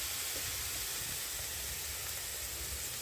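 Spices and tomatoes hit hot oil tempering while cooking aloo dum, giving a quiet, steady sizzle and hiss that runs unbroken throughout with no talking.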